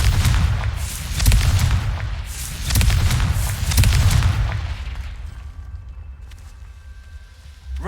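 Confringo blasting spell explosions in the video game Hogwarts Legacy, several heavy booming blasts in quick succession with deep rumbling impacts, loud and close, fading out into a quieter tail.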